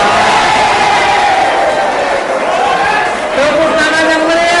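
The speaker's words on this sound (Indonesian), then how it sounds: "Tepuk tangan yang meriah." A loud crowd at the final of a safety-themed quiz competition cheers and whoops continuously, with voices shouting over a dense roar that stays strong throughout.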